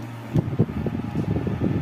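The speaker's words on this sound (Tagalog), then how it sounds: "So yan lang muna yung test ko dito sa electric fan na 12 inches ng Tanzo." A 12-inch Tanzu cordless electric fan runs on battery power with a steady close whir, marked by soft thumps and flutter, and no voices.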